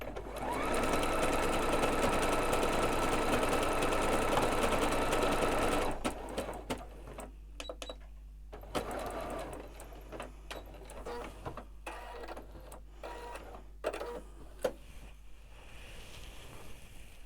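A sewing machine stitches a decorative leaf stitch on a small seasonal mini quilt, running loud and steady close up for about six seconds, then stopping, followed by quiet handling noises.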